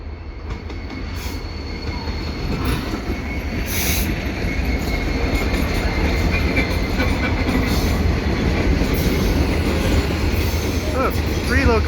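A CN freight train with three locomotives rumbles past up close at twilight, steady and loud, with wheel noise, rattling cars and occasional high squeals throughout.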